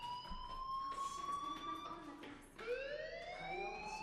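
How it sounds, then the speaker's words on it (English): A fire alarm in the video game Life is Strange wails with rising and falling electronic siren tones, continuous and faint, sounding alone without talk. "Hey, do you hear that fire alarm?"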